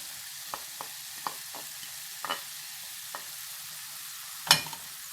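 Pea stew being stirred in a pot as potatoes go in: sparse spoon taps and scrapes over a faint simmer, ending in one louder clatter.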